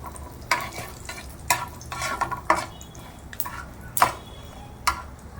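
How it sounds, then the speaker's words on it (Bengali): Whole cumin seeds fry in a little oil for a besan papad curry: a low crackling sizzle runs underneath while a spatula stirs and scrapes the pan in sharp, irregular strokes, heard close and with no one speaking. "জিরেটা ভালো ভাজা হয়ে গেছে।"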